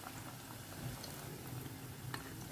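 Pakoras frying in hot oil, a soft, continuous bubbling sizzle with scattered faint pops, steady and fairly quiet throughout.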